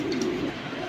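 Young pigeons of silver and military hammer breeds, kept in a loft, give a soft, low continuous cooing that stays close and steady through the brief moment, with no talk over it.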